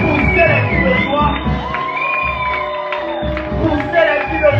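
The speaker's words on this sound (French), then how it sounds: "Pousser les cris de joie." A church congregation shouts cries of joy at a Christian gathering, whoops and cheers from many voices rising and falling in loud bursts across the room.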